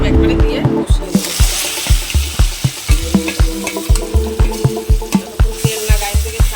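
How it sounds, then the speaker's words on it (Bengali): A paste of cumin, ginger and green chilli with turmeric, chilli powder, a little sugar, salt and tomato fries in oil for a fish roe fritter curry, sizzling loudly under quick, regular stirring strokes close by. "আর দিয়ে দেবো এখানে জিরে আদা কাঁচা লঙ্কা বাটা, হলুদ লঙ্কার গুঁড়ো, সামান্য একটু মিষ্টি, লবণ আর টমেটো সব একবারে দিয়ে কষিয়ে দেবো।"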